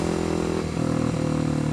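A Kawasaki KLX 250 supermoto motorcycle engine hums loudly and steadily during a ride, heard close up with a slight shift in pitch partway through.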